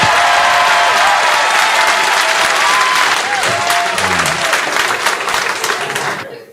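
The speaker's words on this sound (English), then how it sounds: "Make some noise for your friend and mine, Josh Johnson." A stand-up comedy crowd gives loud, sustained applause with scattered cheers for Josh Johnson as he takes the stage, the clapping steady for several seconds before tapering off at the end.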